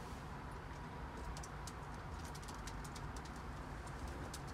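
Young racing pigeons coo softly in a backyard loft, a steady low murmuring bed with scattered brief higher chirps and rustles over continuous background noise; no talking.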